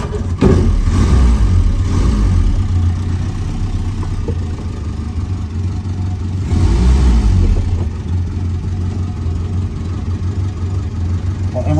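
A 1967 Renault 4 engine, revived after 26 years abandoned, running unevenly with blips of revving, a low rumbling idle between the throttle bursts, heard close and without speech.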